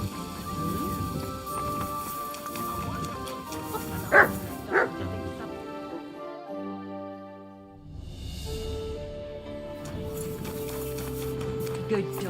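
A dog barks in Kingdom Come: Deliverance II, with several sharp barks and a few whimpers over a busy village backdrop with horse hooves, music and voices talking.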